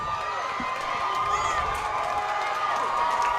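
Crowd at a high school football game cheers and shouts in a sustained, dense roar, with higher voices rising and falling through it.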